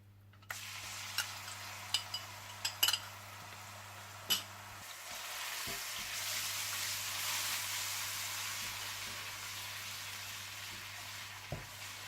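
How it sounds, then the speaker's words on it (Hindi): Ginger and garlic frying in hot oil in a karahi, a quiet steady sizzle with a few sharp clinks and stirring knocks of a utensil against the pan, no speech. "और इसमें आप अदरक लहसुन डालकर थोड़ा सा भून लें।"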